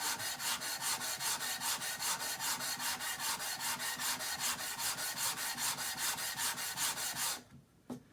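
A coarse-grit abrasive scrubs back and forth over a rusty Stanley rabbet plane in rapid, even rhythmic strokes, close and loud. The rasping stops abruptly near the end.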